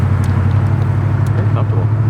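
A 1940 Ford Deluxe Convertible with a 351 Cleveland V8 idles in drive at about 600 RPM, a steady low, even rumble close by, with faint background sounds over it.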